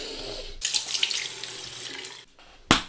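Water runs from a tap while hands are rinsed under it, a steady hissy splash that stops briefly before a short final gush near the end.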